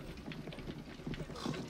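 Horse hooves clip-clopping in the video game Assassin's Creed Origins, a steady rhythmic trot of close, moderately loud hoofbeats over game ambience and faint background voices.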